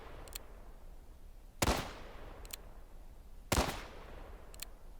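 Civil War era rifle shots in the game War of Rights striking wood: two sharp, loud cracks about two seconds apart, each with a short decaying tail, plus fainter distant shots between, over quiet background.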